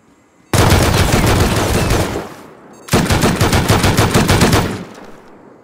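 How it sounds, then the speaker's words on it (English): Automatic turret gunfire in the game Rust during a raid: two long, loud bursts of rapid shots, the first about a second and a half and the second about three seconds, separated by a short pause, with no voices. "Imagine if I didn't have a turret."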